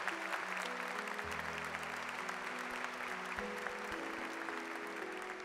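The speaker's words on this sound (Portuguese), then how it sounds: "Aplaudamos o Santo Evangelho." A church congregation applauds after a Gospel reading at Mass, a steady broadband patter of many hands running the whole time, with low organ or keyboard tones held underneath.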